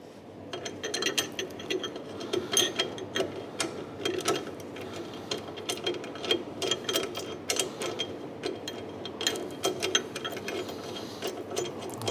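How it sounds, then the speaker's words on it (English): Screw being turned back into the wheel pivot axle assembly of a cross trainer, a faint continuous close ratcheting and clicking that keeps an uneven rhythm throughout, with no talking. "let's put the screw back in"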